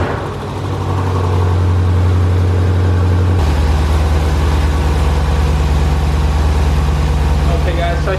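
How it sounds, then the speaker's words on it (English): A car engine cranks over and catches, then settles into a steady, loud, close idle that hums on evenly without break. "We're gonna go ahead and start the car up."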